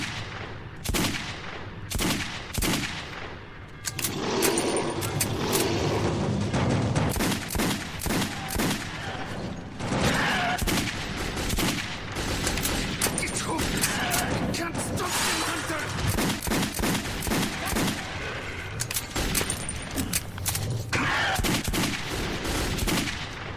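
Bursts of gunfire in the Metro 2033 video game crack out almost continuously, dense and loud, with rapid volleys and single shots. They keep going for the whole stretch, and a voice talks under the shooting at times.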